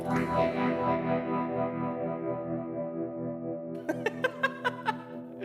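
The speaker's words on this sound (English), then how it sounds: "I'm supposed to sound echoey, Daniel." A voice treated with an echo effect smears into sustained, reverberant tones that slowly die away, followed by a short run of chuckle-like bursts that repeat and fade in the processed tail.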